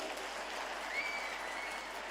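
Steady applause from an audience at a political speech by Punjab Chief Minister Bhagwant Mann, a dense continuous patter of clapping throughout with no voices over it.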